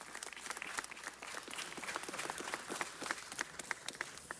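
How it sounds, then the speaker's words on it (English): Faint, steady audience applause at a city council meeting honoring Coach Justin Torres, scattered claps throughout, fairly distant and even. "let's give a big round of applause to Coach Justin Torres"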